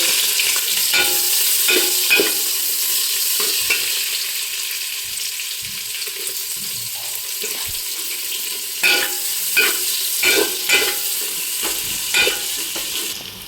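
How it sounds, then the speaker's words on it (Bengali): Onions sizzle in a pan for home-style egg chowmein, a steady hiss broken by repeated close scraping strokes of a spatula stirring them. "এবার দিয়ে দেবো আমি পিঁয়াজটা"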